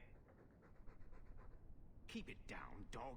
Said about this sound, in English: Also, he's just panting.